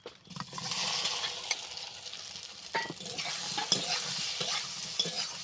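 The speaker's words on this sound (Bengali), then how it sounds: "সয়াবিনটাকে ভালো করে ভেজে নিতে হবে এরকম নেড়ে নেড়ে" Soybean chunks fry in mustard oil in a kadai with a steady close sizzle, punctuated by frequent scraping stirs and light knocks of the spatula against the metal; no voices.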